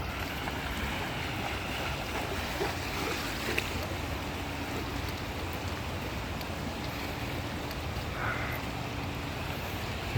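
A cascading waterfall in a forest reserve, heard as a constant broad rushing wash of water, steady and fairly loud with no pauses.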